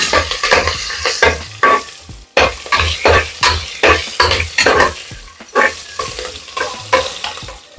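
Green chillies fry in hot ghee with fennel and cumin for chicken chops, stirred briskly so the spluttering sizzle comes in loud rhythmic surges with scraping strokes against the pan.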